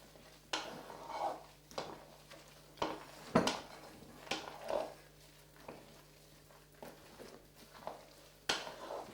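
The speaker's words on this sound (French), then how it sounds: "Maintenant, il s'agit de le mélanger assez délicatement." Batter being mixed gently in a bowl for a cherry cake, soft scattered clinks and scrapes of utensil against the bowl at an irregular pace, quiet and close with no talk.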